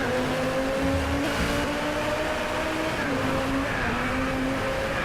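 A Lamborghini in the racing game DRIVECLUB roars loudly and continuously, its engine droning steady as the car loses control and skids, with shifting tonal whine and no pauses throughout.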